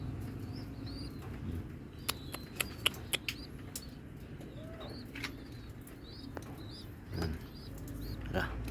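Young racing pigeons in a loft shuffle and flap with scattered sharp clicks and taps over soft low rustling, some faint cooing, and a voice speaking quietly in the background.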